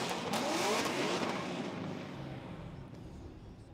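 A Nissan 240SX drift car at a Formula Drift Pro-Spec knockout qualifying round roars loud and close at first, its engine noise broad and rough, then gradually fades as it moves away, with a faint announcer voice underneath.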